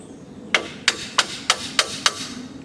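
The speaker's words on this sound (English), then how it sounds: "I found the smallest hammer I could possibly find," A small hammer taps on a brake actuator part from a 2009 Ranger boat trailer, six sharp metallic strikes at an even, unhurried rhythm, close and clear, with no talking.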